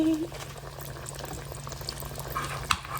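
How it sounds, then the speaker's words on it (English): Ground chicken patties fry in hot oil with a steady, close bubbling and crackling that runs throughout, partly under a voice talking. "we're gonna put it in this oil and let that baby fry"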